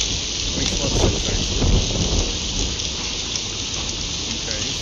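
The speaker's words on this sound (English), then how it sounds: "You got some wind and some rain in New Orleans right now." Hurricane Ida's wind and rain in New Orleans form a dense, continuous roar and hiss of rainfall and gusts, loud and unbroken throughout, with occasional faint knocks in the mix.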